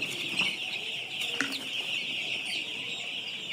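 Paragon colour-bird chicks in a poultry shed in winter, some unable to walk properly, keep up a continuous high peeping chorus with a few louder chirps and faint rustles.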